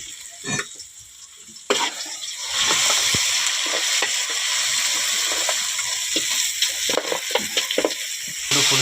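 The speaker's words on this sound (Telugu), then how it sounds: "టమోటా ఎర్రగడ్డ దోరగా ఏగిన తర్వాత మళ్ళా చేపల పులుసు పోస్తారన్నమాట." Fish curry simmering and sizzling in a pan with fried tomato and onion, a steady loud frying hiss that jumps up near the start and holds, broken by a few sharp clinks and spatters.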